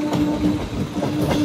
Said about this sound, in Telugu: ఇప్పుడు మన ట్రైన్ వెళ్తుంది భీమవరం జంక్షన్కి.